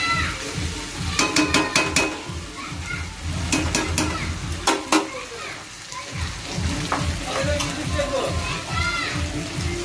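Potatoes are fried and stirred in a pan, producing a hissing sizzle with repeated sharp clanks of a spoon against the pan, mostly in quick bursts, while voices murmur in the background.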